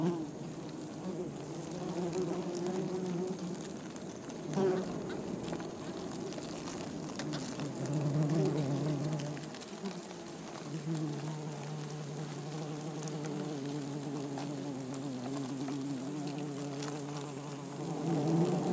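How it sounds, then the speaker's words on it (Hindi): A continuous drone of many bees buzzing in a forest, wavering in pitch as individual insects drift nearer and farther, with soft outdoor ambience beneath. "रोजमर्रा के काम में लगी मधुमक्खियों की जानी पहचानी आवाज सुनाई देती है।"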